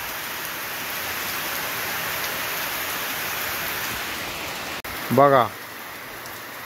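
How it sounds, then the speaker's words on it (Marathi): Steady rain pours down in the Konkan countryside, a broad even hiss throughout, near and constant; a voice speaks briefly near the end over it. "आज पाऊस आलाय"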